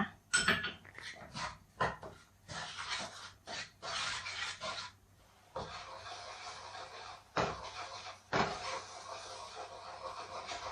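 Coconut sugar syrup, thinned with coconut milk, is stirred in a pan until thick, heard as repeated scraping and rubbing strokes of a spatula against metal in an uneven rhythm with brief pauses, close and fairly quiet.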